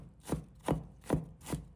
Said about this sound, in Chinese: 切成姜末